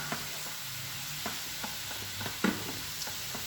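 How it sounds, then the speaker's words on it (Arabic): Green olives frying in a pan, a low sizzle under a spoon stirring with scattered scrapes and light taps against the pan, close and fairly quiet, with no voices. "نحركوها مزيان"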